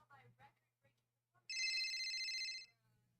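A telephone rings once in a bright, sustained electronic burst lasting about a second, following a few quiet spoken words, with a faint low hum underneath.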